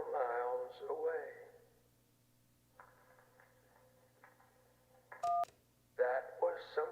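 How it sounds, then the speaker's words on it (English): A faint, crackling burn of a phone book comes through a thin, telephone-like radio filter, lasting a couple of seconds in a video game's radio effect. It is followed by a sharp keypad beep and a voice. "That was someone burning a phone book."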